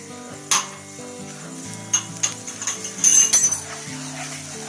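Spice masala for sarson ka saag frying in a pan, a soft sizzle with a burst of rapid metal scraping and clanking from stirring, set against background music.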